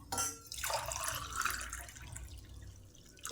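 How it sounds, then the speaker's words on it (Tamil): Water is poured into a pan for sugar syrup with a splashing rush that softens into a gentle trickle, close by and steady. "2 டம்ளர் தண்ணி ஊற்றிக்கலாம்."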